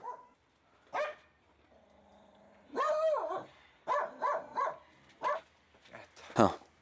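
A dog barks several times in short bursts, some spaced and some quick in succession, fairly close, with a brief whine between.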